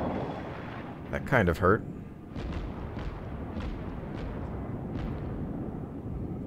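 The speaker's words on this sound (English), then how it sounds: "Couple of good torpedoes." Torpedo hits explode against a warship in the World of Warships naval battle game, a low rolling rumble with several dull booming impacts spread across the moment and a short spoken remark early on.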